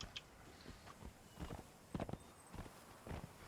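Horse hooves thud in a loose walking rhythm while riding in the Conan Exiles video game, soft and moderately close, with a few irregular louder steps against a quiet background.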